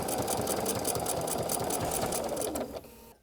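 A sewing machine stitches binding onto the edge of a quilt, running in a steady, loud, close mechanical whir with a rapid needle rhythm. It slows and stops just before the end.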